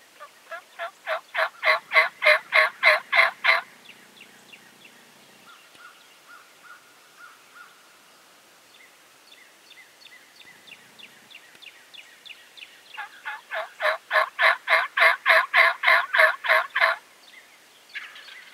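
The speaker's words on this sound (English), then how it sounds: "Those are the turkeys that we heard this morning" Wild turkeys gobble outdoors in two loud, rapid rattling bursts of repeated notes, separated by a quieter stretch with fainter calls, and no talking.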